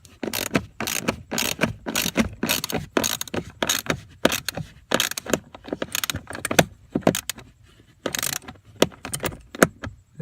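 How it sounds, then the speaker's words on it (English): Screws are driven back into the plastic cabin blower assembly of a 2004 Ford Explorer, producing a rapid run of close, sharp clicks and ratcheting scrapes in irregular bursts with brief gaps, loud and near. "Just a little bit of video putting final screws back in here."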